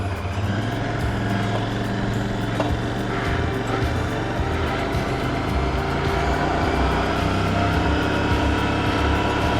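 Steady engine drone from a 2019 Royal Enfield Interceptor 650 motorcycle on a test ride, a constant low rumble with wind noise that holds an even level throughout, with no talking.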